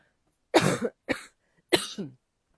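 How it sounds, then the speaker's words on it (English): Three close, sharp coughs in quick succession, the last one with a rougher double push, in an otherwise quiet room. "I need to cough."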